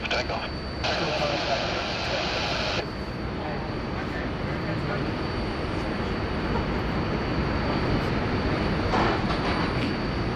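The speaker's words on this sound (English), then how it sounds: "Runway 34 left, clear for takeoff." An airliner on takeoff from runway 34 left at Sydney Airport gives a steady, broad engine roar heard from a distance, with a brief higher whine early on and faint talk over it.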